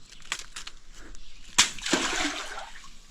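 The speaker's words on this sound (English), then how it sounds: "There's a lot of water in there. I mean, that whole mine is flooded." Water sloshing and splashing inside a flooded abandoned coal mine near Williamson: a sharp thud, then a sustained rushing wash of moving water that echoes at a moderate distance.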